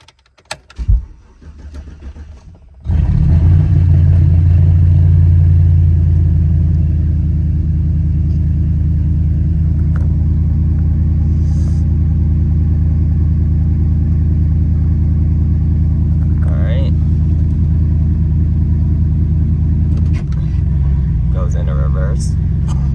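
Chevrolet Silverado pickup with a 4L60 transmission that won't engage in Drive or 3 starts up and idles with a loud, steady low rumble close by, its tone dipping slightly near the end, with a few faint clicks over it.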